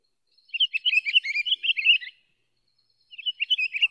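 A winter fruit-eating bird such as a waxwing gives high, thin trilled calls: a burst of rapid chirps lasting over a second, a pause, then a shorter second burst, clear and close with no other sound.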